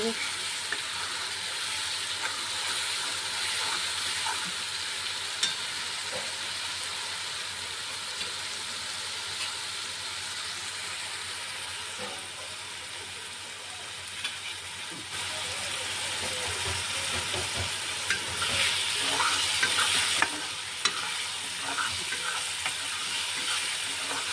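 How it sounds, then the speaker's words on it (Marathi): Garlic-ginger paste fries in a pan with a steady high sizzle, overlaid by occasional scraping stirs, for a vegetable dish; faint background sounds but no clear talk. "लसण अद्रक याची पेस्ट केली होती ती याच्यात टाकली ते थोडंसं फ्राय"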